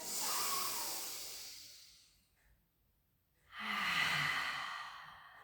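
A person breathes steadily during a pilates exercise: two long, close, audible exhales, soft and airy like sighs, with a quiet gap between them and no talking.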